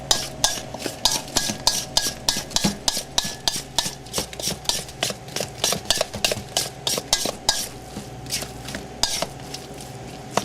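Salmon patty mixture with sea salt being stirred in a bowl, rapid rhythmic scraping and clinking strokes repeating steadily at close range, with no talking over it.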